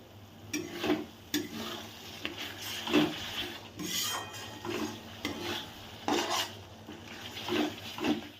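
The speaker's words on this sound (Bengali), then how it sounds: "মশলা দিয়ে নাড়াচাড়া করে দিয়ে দেব" Spoon scraping and stirring a spice paste in a pan while cooking a Bengali pabda fish curry: repeated soft rubbing scrapes in an uneven rhythm over a faint sizzle, close and moderately quiet.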